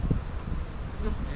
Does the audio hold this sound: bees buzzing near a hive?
yes